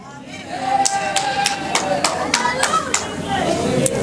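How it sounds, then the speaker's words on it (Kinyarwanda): A church congregation claps in a steady, regular rhythm about three times per second. A voice speaks loudly over the clapping and other people chatter in the background. "Abakomye amashyi Imana bahumugisha"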